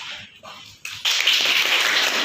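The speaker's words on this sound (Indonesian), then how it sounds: "jadi tepuk tangan untuk kelompok 3" Applause from a classroom group in a school microteaching session, starting faint and swelling into steady, dense clapping after a short pause.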